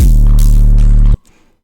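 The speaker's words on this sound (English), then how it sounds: "we're gonna go with the 808 bass." A deep, sustained 808 synth bass note with rich low harmonics holds steady for about a second, then cuts off abruptly into near silence.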